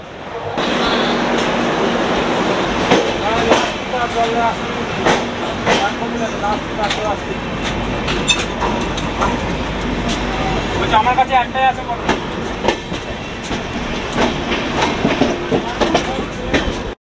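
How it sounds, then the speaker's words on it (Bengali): The Kolkata Express (13152) rolls into Dhanbad station with a loud, steady rumble and rhythmic clickety-clack of wheels over rail joints, heard from inside a carriage while a passenger speaks briefly over the din. "বেনারস থেকে 423 কিলোমিটার অতিক্রম করে এখন ধানবাদে আমাদের ট্রেন ঢুকছে"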